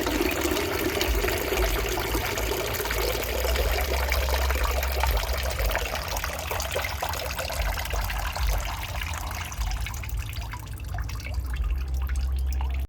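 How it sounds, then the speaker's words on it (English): Water drains out of a small garden pond in a continuous close trickling and splashing pour, steady and loud throughout, its tone shifting slightly lower toward the end. "So I might start draining, and hopefully they'll come out when we drain it a little bit."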